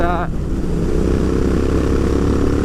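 A Royal Enfield Interceptor 650 twin fitted with a Hitchcocks exhaust system, a steady, loud, deep engine drone throughout, with a brief tonal sweep at the very start and no talk.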